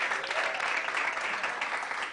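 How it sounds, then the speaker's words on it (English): Audience applause at the launch event of an African girls' empowerment initiative, a steady, even wash of clapping from a crowd, moderately loud and continuous for the whole stretch. "A round of applause"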